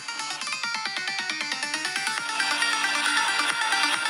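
A bright electronic ringtone melody plays loudly through a Samsung Galaxy A36 phone speaker at full volume, repeating a quick, rhythmic pattern of notes without any voices.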